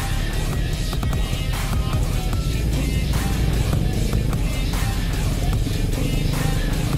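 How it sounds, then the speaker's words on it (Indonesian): Steady, dense roar of a traffic jam close by, idling and revving cars mixed with motorcycle engines, continuous throughout with no pauses. "Wah macet ternyata di sini ya"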